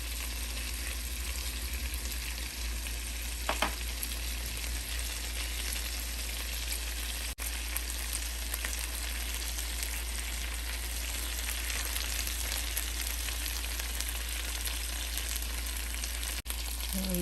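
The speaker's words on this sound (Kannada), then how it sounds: "ಸೊ ಫುಲ್ ಓಪನಲ್ಲೇ 2 ಸೈಡ್ ತಿರುಗಿಸ್ತಾ ಫ್ರೈ ಮಾಡಿದ್ದೀವಿ." Honey gin garlic chicken drumsticks fry in an open pan, turned on both sides, giving a close, steady, unbroken sizzle with faint stirring touches and no voices.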